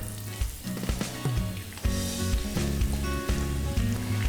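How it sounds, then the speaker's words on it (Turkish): Onions land in a heated non-stick pan of oil at the start of caramelizing, producing a loud, close, continuous sizzle and crackle that rises sharply partway through, with no talking. "Isınan tavaya soğanlarımı koyarak işe başlıyorum."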